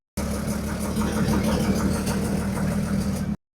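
A Sri Lankan public bus engine idles with a deep, steady, close rumble and a slight knocking throb, alone without voices, cutting off abruptly at the end.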